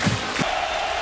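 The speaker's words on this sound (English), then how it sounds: "And now the crowd coming to life." Stadium crowd at a college football game between Michigan State and Notre Dame roars in a steady, dense wash of cheering, with a couple of louder shouts rising early on.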